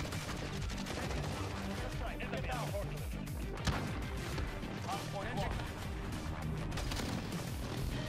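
Rapid bursts of gunfire from fire-loaded shotguns and other weapons in the video game Modern Warfare crackle continuously and loudly throughout, dense layered shots over game effects with a voice talking underneath.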